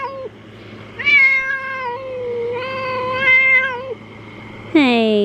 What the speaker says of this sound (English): I actually think that cat's blind.